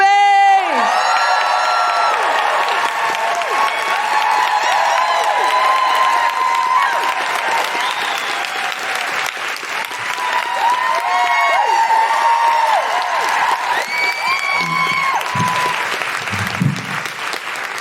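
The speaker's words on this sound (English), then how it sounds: "please put your hands together and make incredible woohooing noises for the wonderful Hannah Gadsby" A live audience greets comedian Hannah Gadsby with sustained loud applause, cheering and whoops, crowd clapping steady throughout while shouts and whistles rise and fall over it.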